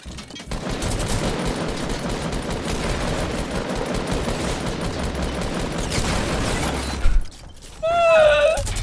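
A double minigun fires in Fortnite Battle Royale as a long, loud, unbroken burst of rapid gunfire for about seven seconds. It stops abruptly, and a short tonal game effect follows.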